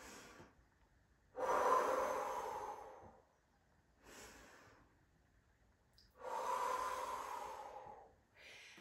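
Slow, deliberate breaths during a prenatal Pilates exercise: two long, loud exhales, each followed by a softer, shorter inhale, close to the microphone, with quiet pauses between and no talking.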